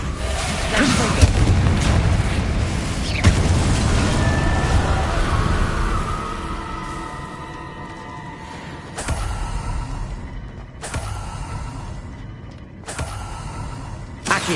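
Confringo blasting spell from Hogwarts Legacy on PS5, a loud booming burst with rumbling debris that rolls on for several seconds, followed by sharper magical impacts and crackles.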